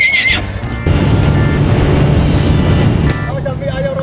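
Horse at a livestock market for cattle, goats, carabao and horses, giving a loud close whinny over busy crowd chatter and background bustle.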